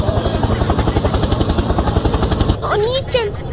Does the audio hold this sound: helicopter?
yes